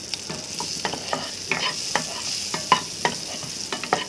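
Green chilies sautéing in a pan over a low flame, cooked for a Punjabi-style makhani gravy: a steady close sizzle punctuated by repeated spatula stirring scrapes, with no talking.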